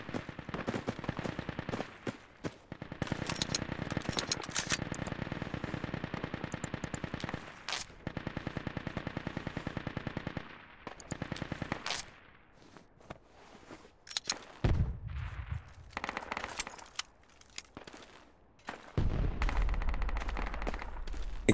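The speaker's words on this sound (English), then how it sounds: "Fire from an MG." A video game machine gun rattles in long, dense bursts of rapid automatic fire, loud and close, broken by short pauses with scattered single shots near the end.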